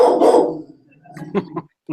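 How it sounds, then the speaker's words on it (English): A dog barks once loudly, followed by a few shorter, softer yips and barks, close by with quiet gaps between. "Stop barking."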